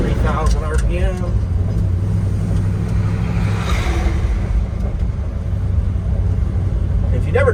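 A 1972 Ford F-250 Ranger 4x4 pickup with a four-speed manual runs in second gear at about 3,000 RPM, a steady loud engine drone filling the cab with low rumble while someone talks over it.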